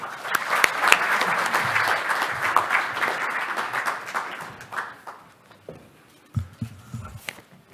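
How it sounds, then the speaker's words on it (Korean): An audience at a Korean National Assembly policy forum applauds to welcome a lawmaker, a loud sustained clapping that fades over several seconds, followed by a few scattered claps and light rustling. "큰 박수로 환영해 주시기 바랍니다."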